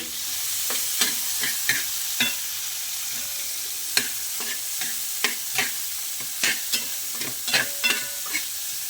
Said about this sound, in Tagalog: Lulutuin natin yung sibuyas at kamatis